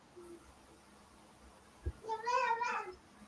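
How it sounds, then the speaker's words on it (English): A black house cat giving a drawn-out, wavering meow indoors, moderately close, preceded by a brief bump and quiet room tone. "Stop it, you crazy cat."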